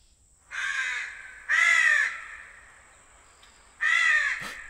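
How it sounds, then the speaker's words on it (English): Huge crow cawing outdoors in a forest, three loud harsh caws separated by pauses, close and clear with no talk. "Yes, that crow, that huge crow."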